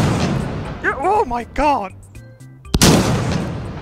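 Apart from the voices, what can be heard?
12 gauge shotgun firing in H3VR VR video game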